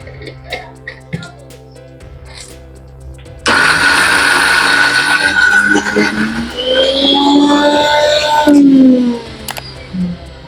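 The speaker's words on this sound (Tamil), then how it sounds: "இப்போ மிக்ஸி மூடிட்டு அரைச்சிக்கலாம்." An electric mixer grinds coconut chutney with a loud, steady whirring roar that starts abruptly, changes pitch as the load shifts, then cuts off. Quieter clicks and handling noises come before and after the grinding.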